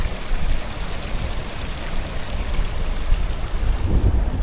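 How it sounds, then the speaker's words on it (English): River water rushes steadily and close, a broad continuous wash of flow and turbulence with a low rumble underneath, probably stirred by gusts of wind, and no voices over it. "Look at this river, isn't this beautiful?"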